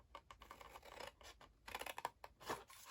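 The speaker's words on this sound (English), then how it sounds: "cut along that bit there and cut along this score line here" Scissors cut cardstock along a score line while a flip-top box is made, giving a quiet run of quick, close snips and scraping slides.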